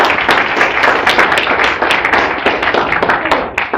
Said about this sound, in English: You don't have to clap